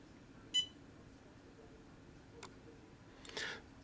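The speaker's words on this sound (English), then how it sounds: "The diagnostic tool will beep several times" A diagnostic tool gives short electronic beeps during VX Manager software setup, one sharp beep early, a faint one midway and a longer buzzy tone near the end over a quiet background hum.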